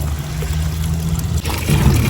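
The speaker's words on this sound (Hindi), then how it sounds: "इसीलिए पानी भरना ही पड़ेगा मुझे" Cold water trickling and pouring as it is filled by hand, a steady close splashing flow that grows busier and louder toward the end.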